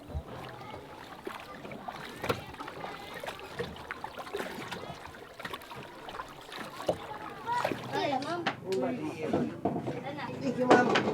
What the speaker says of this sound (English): We are traveling over an hour by boat off the coast of Tawi-Tawi Island